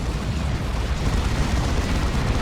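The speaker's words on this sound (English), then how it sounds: "On orbital bombardment there." Orbital bombardment in the strategy game Dawn of War 2 produces a sustained rumbling barrage of explosions, a dense, loud and continuous low roar with crackling bursts running throughout.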